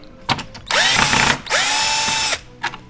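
A screwdriver drives screws out of a 4Runner turn signal housing during a smoked sequential lamp swap, giving two sustained stretches of dense ratcheting clicks with brief knocks before and after, close and fairly loud.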